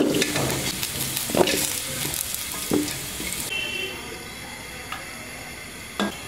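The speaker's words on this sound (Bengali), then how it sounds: "পুঁই ডাঁটাগুলো একটু ভেজে নিচ্ছি।" Malabar spinach stalks sizzle and crackle in hot oil in a pan, with occasional stirring scrapes. The sizzle is loud at first, then settles into a softer, steady fry.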